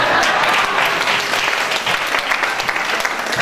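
A church congregation claps during a sermon, steady dense applause with audible individual hand claps, loud and near, holding throughout without speech.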